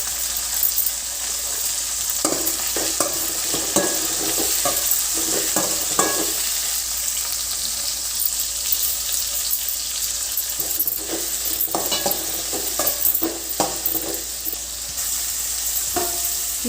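Tomatoes with salt fry and sizzle steadily in a pan, with intermittent scraping and clinking as a spoon stirs them, close and loud without talk.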